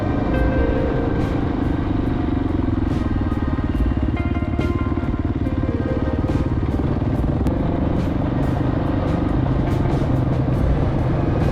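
A dual sport dirt bike on paved Highway 313 near Moab, Utah, with a steady, loud engine drone and rushing wind noise, constant throughout with no pauses.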